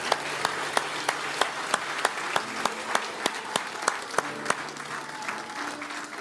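A church congregation at a Christmas service claps for visitors, a moderately sized group with some sharp, rhythmic, nearly unison claps standing out over looser clapping, with faint voices beneath.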